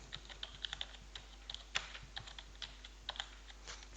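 Quiet computer keyboard typing as an entry goes into an Excel accounting sheet: light, evenly spaced key clicks with a few sharper taps, close by over a steady low hum and with no talk.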